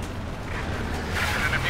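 Howitzer artillery fire from a Wehrmacht side in a 4v4 Company of Heroes 2 match, a dull sustained rumble of distant booms under the game's battle noise.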